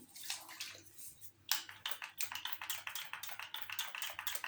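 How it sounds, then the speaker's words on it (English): Spray bottle misting water onto an acrylic painting canvas, a quiet series of short hissing spritzes repeated in quick succession with brief pauses between them. "You know, I forget to do spray my canvas. So I'm gonna spray it now."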